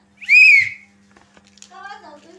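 A child blows a whistle once in a short, shrill, rising blast. A voice follows briefly in a quiet room.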